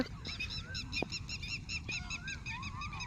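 Swans and ducks honk and quack repeatedly in a busy chorus, moderately close, with overlapping calls and no talking.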